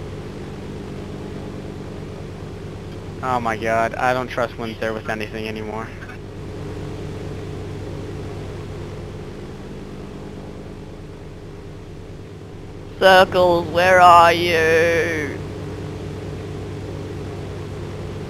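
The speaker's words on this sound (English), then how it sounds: "I'm flying a plane right the fuck now." Steady engine drone from a plane being flown in DayZ, holding as a constant hum throughout while players talk over it in two short stretches.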